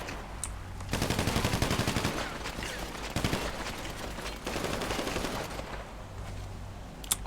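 Bursts of gunfire in the video game GTA V, dense rapid rattling volleys coming in several waves with short lulls between them.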